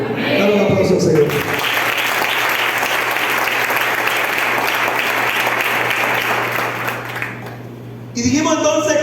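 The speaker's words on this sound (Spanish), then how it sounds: "Dale un aplauso al Señor." A church congregation claps loudly and steadily for several seconds during a worship service, the dense applause rising after a brief voice and fading out before the preacher speaks again.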